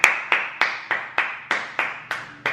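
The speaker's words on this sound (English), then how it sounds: "the crowd goes wild" An applause sound effect made of distinct, evenly spaced claps, about nine sharp hits in steady rhythm, each with a short decaying tail, loud and close.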